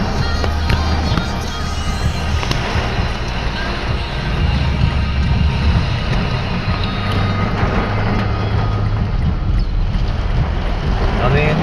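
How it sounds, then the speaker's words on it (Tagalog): Strong wind roaring through a storm with thunder nearby, heard by a ride-hailing driver, as a loud, steady broadband rush with low rumbling and a voice speaking over it throughout. "Ay napakalakas ang hangin."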